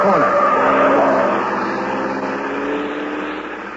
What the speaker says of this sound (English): a car with Ralph Leonard at the wheel swerves crazily around the corner